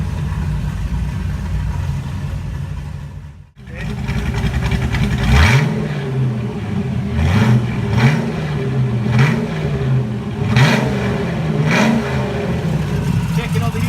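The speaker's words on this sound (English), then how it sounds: "Idle will be a bit lumpy to start with," Car engine idling unevenly while still cold after start-up, a steady close rumble with periodic lumpy surges and a brief dip near the start.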